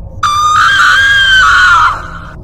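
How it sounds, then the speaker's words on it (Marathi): A loud, sustained high-pitched scream from a woman in a Marathi horror story, holding steady for nearly two seconds before cutting off. "आईच्या मोठ्यानं ओरडण्याचा आवाज आला"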